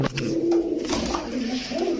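Pigeons coo in a few soft, throaty, warbling calls close by, one call following another across a couple of seconds.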